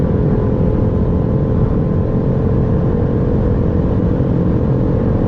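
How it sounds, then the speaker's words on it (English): A 2020 BMW i8 hybrid sports car's artificial engine sound hums as a steady, synthetic-sounding drone at constant loudness, with no voices or other sounds. "You don't really hear that engine, you just hear that fake sound"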